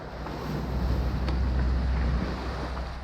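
Strong, building wind roars over a sailboat crossing Lake Michigan, with waves washing against the hull in a steady, loud, close rumble and no voices.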